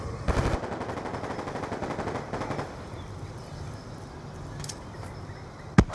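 Gunfire in the video game Call of Duty Black Ops 2: two rapid automatic bursts, one right at the start and a shorter one a couple of seconds later, then a single sharp shot near the end.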